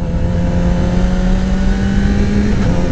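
Yamaha R6 sport bike engine with a freshly fitted quick shifter runs steadily and loud throughout, a constant close-up mechanical drone with no clear rev peaks or distinct shift breaks.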